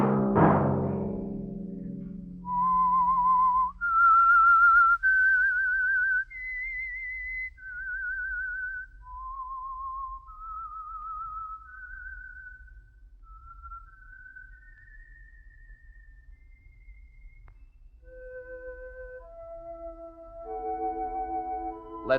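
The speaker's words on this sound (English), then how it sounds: "Let that whistle be your signal for the Signal Oil program, The Whistler, each Wednesday night at the same time." Signature tune of the radio drama The Whistler, whistled solo as a clear, eerie melody of rising and falling sustained notes, moderately loud and close, with no talk.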